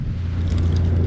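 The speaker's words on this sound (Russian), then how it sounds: "Еще машина едет." A car drives past on a bypass road, giving a close, steady low engine rumble for a brief moment with no talking.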